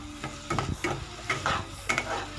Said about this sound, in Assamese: এইখিনি অকণমান টাইম ভাজি ল'ব লাগিব আলুখিনি।